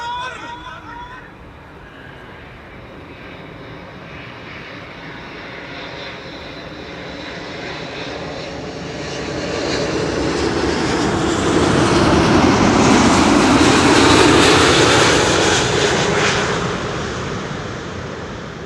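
KLM Boeing 777-200 landing at Schiphol, its engine roar building into a loud, broad rush as thrust reversers are used, peaking then easing off toward the end.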